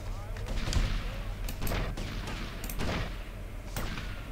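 Gunfire from GTA Vice City: Definitive Edition during a beachside rampage, with several sharp shots at irregular intervals over a steady background of game ambience and music.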